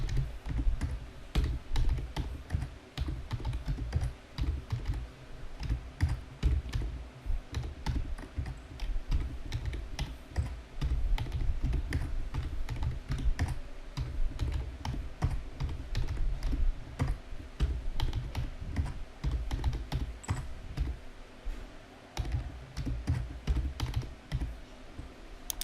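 Computer keyboard typing in Excel as item codes are entered at random, a steady run of close, quick key clicks with short pauses, alone and unbroken throughout.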